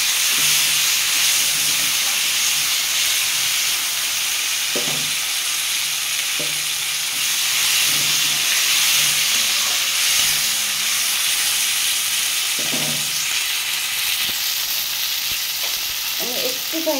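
Tomatoes fry with rubbed black cumin in a pan, a continuous bright sizzle overlaid by occasional scraping and clacking stirs from a utensil, close and steady with no talking.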